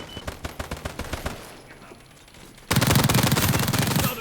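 An M416 rifle fires rapid bursts in a war video game, starting with a run of close, punchy shots. A brief lull follows, then dense, loud continuous gunfire takes over. No one speaks.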